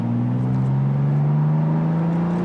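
BMW M2 exhaust heard from inside the cabin in Sport Plus with the exhaust valves fully open, a steady loud low drone that rises gradually in pitch as the engine pulls, with no talking.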